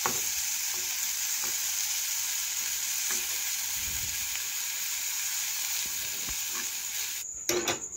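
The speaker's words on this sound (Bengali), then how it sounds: "তো পটল ভাজা হয়ে গেছে" Pieces of pointed gourd fry in hot oil in a wok, giving a steady, close sizzle that holds evenly throughout, with faint clinks of stirring and a brief scrape near the end.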